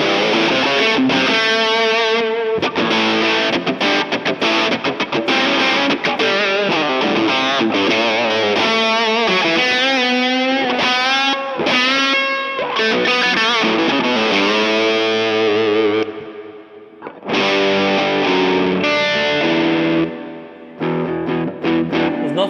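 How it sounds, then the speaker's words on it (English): An electric guitar, a 2001 Gibson ES-175 in sunburst, plays through a distortion pedal set for crunch, giving dense, continuous overdriven chords and riffs, loud and close, with a brief dip near the end and no talking. "your distortion pedal set up with like a really nice crunch sound"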